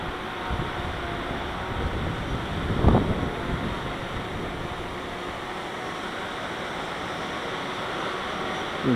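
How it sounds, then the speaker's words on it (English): Strong wind roars outdoors during a Phantom 4 drone flight, a steady loud rushing buffet across the microphone with one brief gust swell. "You can hear the wind ripping through here"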